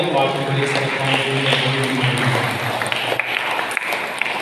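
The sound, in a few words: congregation clapping hands in applause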